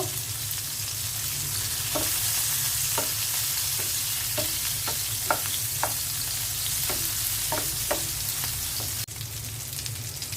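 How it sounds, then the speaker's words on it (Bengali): Green chillies frying in a pan beside onion and garlic, a continuous close sizzle with a steady hum underneath and sharp spatters popping every second or so. "আর দিয়ে দিচ্ছি কাঁচামরিচ ভেজে ভর্তা করব"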